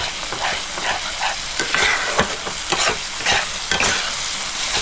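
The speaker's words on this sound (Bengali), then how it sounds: "টক দই দিয়ে আমি 1 থেকে 2 মিনিট ভালো করে কষাই নেব।" A spice paste with sour yogurt for a pangas fish curry sizzles loudly in a pan while being stirred, the steady frying hiss rising and falling with repeated scraping strokes of the spoon, close by and without voices.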